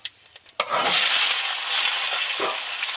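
A few light clatters, then vegetables hit hot oil in a pan and a loud, steady sizzle takes over, continuing close and strong to the end.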